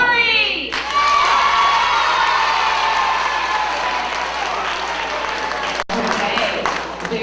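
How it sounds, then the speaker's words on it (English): A crowd of schoolchildren cheers, shouts and claps loudly at a school crowning, a sustained roar with high voices over dense applause, while an adult voice is heard at the start. "When we crown Tori, applause."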